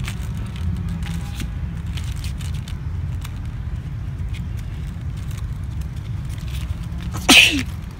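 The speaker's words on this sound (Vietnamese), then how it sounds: "Hắt xì hơi nha." A single short, loud sneeze breaks out near the end of a long stretch of steady low indoor rumble, with no voices in between.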